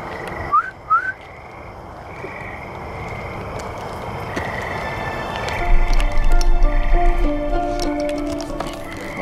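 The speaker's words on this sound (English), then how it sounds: "That's a whistle. Can you hear it?" Two short, rising whistles sound early and fairly faint inside an abandoned prison at night, followed by a low, rumbling background with scattered knocks and creaks. No one speaks.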